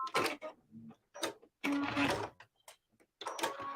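Sewing machine stitching fabric in bursts, short whirring runs of needle clatter that start and stop repeatedly, close and clear with quiet gaps between them.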